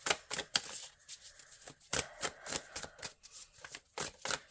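A deck of oracle cards is shuffled by hand, giving quick crisp riffling snaps and flicks in irregular bursts, close and fairly quiet, with no talking.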